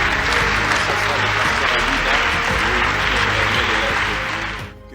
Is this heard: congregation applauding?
yes